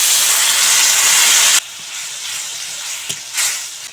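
Ground chilli and roasted cumin powder hiss and sizzle loudly in a hot pan as a splash of water hits, the steamy burst dropping to a softer ongoing sizzle with a couple of small spits.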